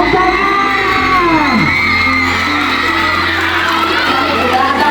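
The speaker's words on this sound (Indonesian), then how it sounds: "Tepuk tangan." Students at a school student-council candidate debate cheer, whoop and shout together in a loud, continuous crowd roar with excited voices rising and falling throughout.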